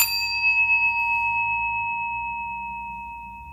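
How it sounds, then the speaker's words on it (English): A Tibetan singing bowl rings out from a single strike, its clear steady metallic tones sustaining and slowly fading over a few seconds, heard close with no voices. "There we go, our chime down here."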